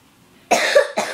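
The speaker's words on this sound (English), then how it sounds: "you might be hearing me coughing. I've got a bad cough." A person with a bad cough lets out two harsh, close coughs in quick succession, loud against a quiet background.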